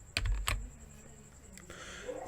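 Typing on an Apple Mac keyboard used with a Windows computer: a few sharp, close key clicks cluster early, then a scattering of lighter taps under a quiet background hum.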